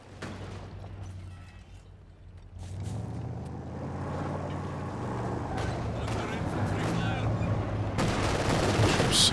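Light machine gun fire in a strategy game, rattling bursts and scattered shots mixed with vehicle rumble, under someone talking continuously.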